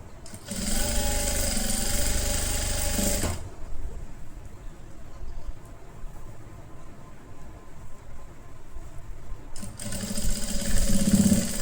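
A sewing machine stitching a halter neck kurti runs in two loud bursts of rapid, steady whirring, a longer run at the start and a shorter one at the end, with a quiet pause between and no talking.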